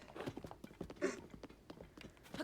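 A horse gallops in The Legend of Zelda: Tears of the Kingdom, a quick, faint, irregular patter of hoofbeats with soft clip-clop thuds over low game ambience and no voices.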